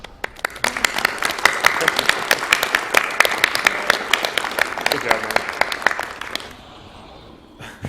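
A live audience claps and applauds for about six seconds after a Dark Souls 2 speedrun fight at a marathon event, dense and fairly close, with someone speaking over it before the clapping fades.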